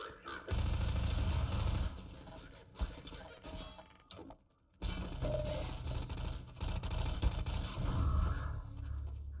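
Video game gunfire crackles in dense, sustained bursts, loud and close, with a brief lull in the middle before heavy firing resumes.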